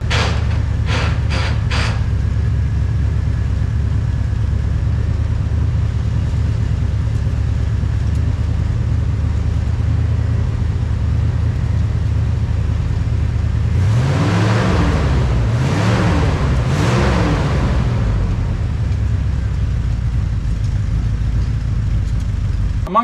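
A one-owner Jeep CJ5 with a 304 V8 that runs but won't shift into gear idles steadily and loudly nearby, with a few brief revs partway through.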